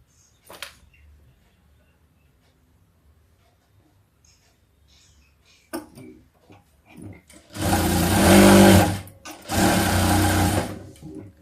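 A sewing machine stitches fabric in two loud sustained runs near the end, after scattered quiet handling clicks and taps.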